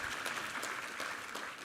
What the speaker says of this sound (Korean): 하나님께 우리 감사와 영광의 박수 올려드리겠습니다